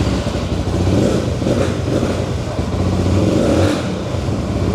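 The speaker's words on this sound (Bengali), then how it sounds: "যখন বাইকটা আমি স্টার্ট দিব" A 250cc motorcycle engine runs with a steady low rumble that swells slightly as it revs, close and fairly loud for the whole stretch.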